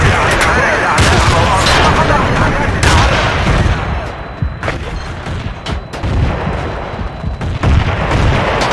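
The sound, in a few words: frag grenade explosion in the video game Battlefield 2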